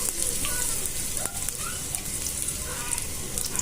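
Onion frying in oil for a chicken fry, giving a dense, steady crackling sizzle that stays close and fairly loud throughout with no pauses.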